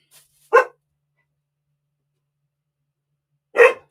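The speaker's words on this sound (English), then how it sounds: "No barking." A dog barking: two sharp single barks about three seconds apart, close and loud, with silence between them.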